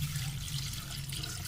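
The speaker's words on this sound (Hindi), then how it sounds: "2 गिलास पानी में डाल दें।" Water poured into a cooking pot of katwa gosht set on a low flame, a steady close splashing and gurgling stream for a brief moment, alone without talk.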